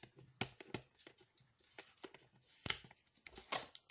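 Quiet, sharp ripping bursts of adhesive tape peeling off a package, a few distinct pulls amid soft crinkling handling noises, close up.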